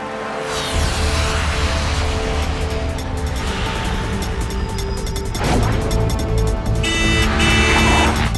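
Road traffic with cars moving slowly, a steady, fairly loud engine and tyre rumble that holds throughout and swells slightly toward the end as vehicles pass close by.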